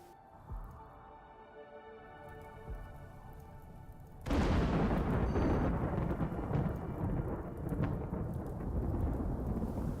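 A sudden loud thunderclap from a flash storm in the colony-building game RimWorld, breaking over a quiet rain-patter background and then rolling on as a heavy, sustained rumble.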